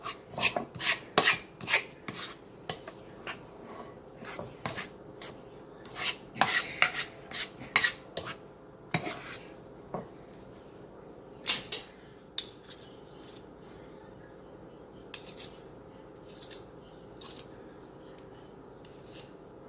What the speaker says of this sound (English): you just keep going around until the butter is all mixed in and you start getting a crumble